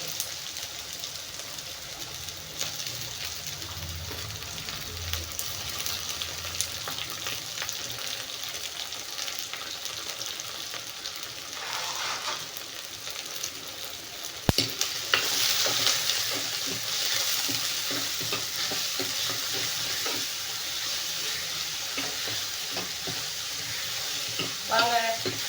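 Steady sizzling of chopped large onions frying in a pan, a constant hiss with occasional stirring scrapes and faint kitchen clatter.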